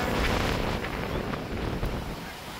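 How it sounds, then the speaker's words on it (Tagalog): Strong wind gusting across an outdoor park playground in the evening, a steady loud roaring buffet on the microphone that fills the whole stretch without letup. "Lakas ng hangin."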